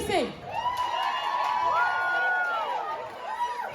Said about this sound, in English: CC, round of applause for CC.